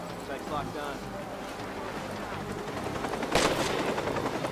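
Helicopter and gunfire in the video game Watch Dogs: a dense wash of rotor drone and rapid automatic shots, with a louder burst of fire near the end.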